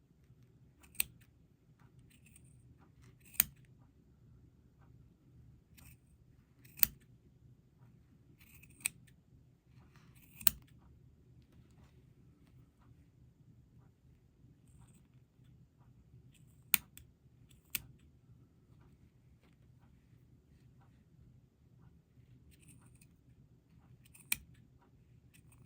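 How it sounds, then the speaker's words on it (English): Scissors snip through yarn wound on a Red Heart pom pom maker in sparse, sharp clicks, about eight cuts spread irregularly over a quiet background. "I obviously can't get the scissors over the whole thing"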